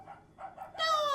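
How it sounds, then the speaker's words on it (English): A dog in a Steven Universe cartoon gives a few quick, soft barks, followed by a louder sustained tonal sound. "Dog!"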